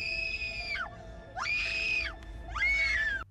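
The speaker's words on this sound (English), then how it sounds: "she started screaming because of the people hanging from the trees" A woman screams in the film The Happening: three long, shrill cries, each held then falling away, separated by short gaps over a low background rumble.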